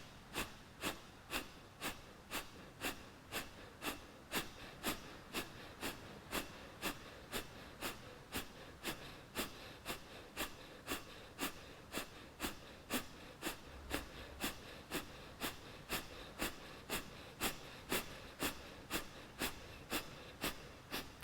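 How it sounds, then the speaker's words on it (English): Rapid, forceful Kapalabhati exhalations repeat at a steady pulse of roughly two per second, a long unbroken train of sharp nasal bursts, close and fairly quiet. "Let's do our final round of this Kappalabhati sequence"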